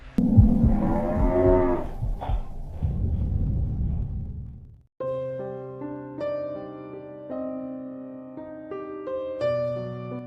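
Cattle in a cow barn low out with several loud, drawn-out moos, followed by sustained music.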